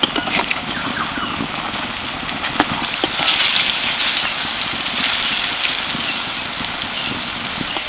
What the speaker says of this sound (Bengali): উল্টে পাল্টে সবগুলো ভালোভাবে ভেজে নিয়েছি